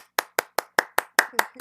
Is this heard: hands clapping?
yes